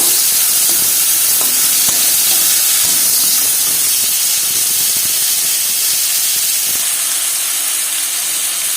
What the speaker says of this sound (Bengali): এখানে আমি পরিমাণ মতো নুন আর হলুদ দিয়ে সাঁগাটা ভালো করে ভেজে নেবো